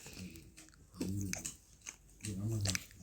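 Crunchy chewing and biting of Troll Tower candy, close to the mic, in several bursts separated by brief pauses, with faint voice sounds mixed in.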